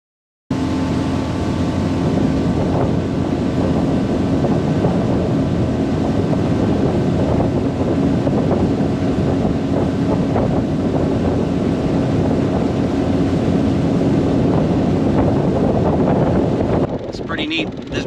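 A small fishing boat's motor drones steadily at speed as it planes out, with loud, continuous wind buffeting and water rush nearly throughout before easing at the end.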